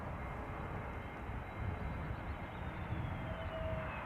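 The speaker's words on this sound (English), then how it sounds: "Yes, that's a proper touchdown." An Airbus A321neo of Pegasus touches down on landing at Schiphol Airport, a broad, steady roar of engines and rushing air with a faint whining tone, heard from a distance without voices.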